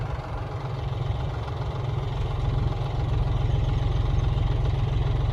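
A farm tractor engine runs during the start of the sowing season, a steady, close, low rumble with a fast throbbing pulse that grows slightly louder, heard alone with no talking.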